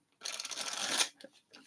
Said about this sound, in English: Put some shuffles on this deck.